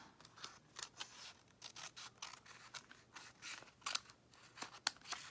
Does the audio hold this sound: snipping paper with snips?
yes